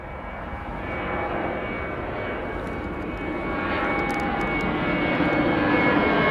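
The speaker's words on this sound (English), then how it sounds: "Look at the Emirates jet, look at that lining up." An Emirates jet at London Heathrow Airport, its engines producing a steady broad roar that slowly builds in loudness, heard from a distance with no talking.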